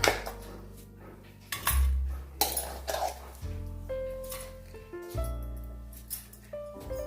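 Coarsely ground pea mixture for an oil-free breakfast snack is scraped into a pot, giving several distinct clinks and scrapes of utensils on metal cookware, close and fairly loud, with no talking.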